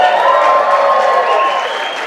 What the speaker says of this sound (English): Let's give a great big round of applause for Tim Pro!